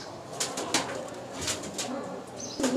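Pigeons coo steadily at a crowded pigeon market in Uluberia, with soft repeated calls close by and a brief flutter of wings over the background hum.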